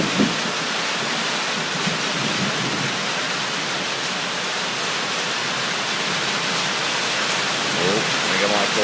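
Steady rain drums on a tin roof beside a pool during a thunderstorm, an even close hiss sustained throughout with faint murmuring in the background.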